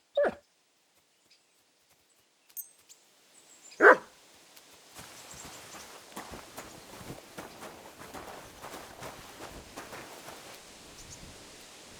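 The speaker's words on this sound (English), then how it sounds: "Barking?" In Kingdom Come: Deliverance II, a dog gives a sharp bark, then a second louder bark a few seconds later, out of near silence, before soft footsteps and rustling movement follow.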